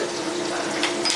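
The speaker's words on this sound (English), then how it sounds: "rub it around, and rinse it out real good" Running tap water rinses out an SSV wand with a screen, a steady close splashing flow that holds throughout with a slight surge near the end.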